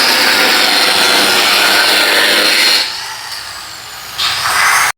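Loud, steady power-tool cutting of roll cage tubing during a roll bar and cage install, a harsh continuous rasp that drops briefly to a quieter whir before returning at full intensity.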